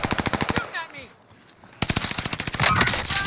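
Combat Scout rifle fire in Call of Duty Warzone, loud rapid bursts of shots in quick succession, a short lull with faint game sounds, then another fast volley.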